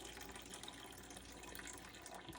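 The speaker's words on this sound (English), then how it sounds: "You can see the water comes down through here." Water drains steadily down through an earthship water filter housing as it is unscrewed, a constant soft trickling gush that stays faint and even throughout.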